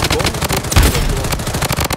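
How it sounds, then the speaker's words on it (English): Heavy, rapid gunfire in the Bloodstrike video game: dense automatic bursts and loud explosive cracks fill the scene continuously, close and intense. "I'm under heavy fire"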